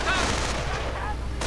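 Anti-tank guns firing at Panzer IVs in a World War II video game, a dense rumbling barrage of booms that fills the short stretch without a pause.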